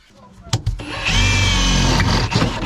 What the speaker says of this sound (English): So we'll drill the hole the size of this, put it around, and then put the fuel line through.